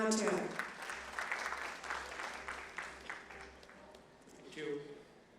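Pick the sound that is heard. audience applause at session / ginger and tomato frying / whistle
audience applause at session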